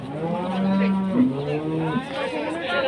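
A cow lets out a loud, drawn-out moo close by, with a second lower bellow following, in a village where the cow had broken loose, amid background chatter and noise.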